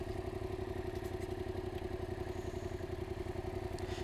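A Yamaha MT-07 two-cylinder motorcycle engine idles steadily nearby with an even, low pulsing throb and faint mechanical clatter, running alone without any talk.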